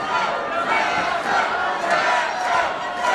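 A wrestling crowd at Seven Feathers Casino in Canyonville, Oregon, roars steadily during a midget wrestling main event, with dense cheering and yelling that stays loud and unbroken from start to finish.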